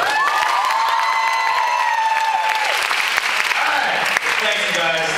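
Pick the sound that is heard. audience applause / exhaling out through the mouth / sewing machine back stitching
audience applause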